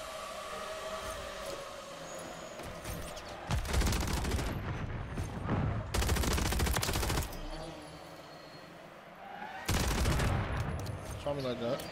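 Gunfire in the video game Call of Duty MW3, loud rapid automatic bursts in three clusters, with a player talking over the action between the bursts.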